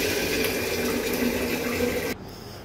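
Water runs from a tap to fill a pot for heating bath water, a steady close rushing stream that drops abruptly to a quieter trickle near the end.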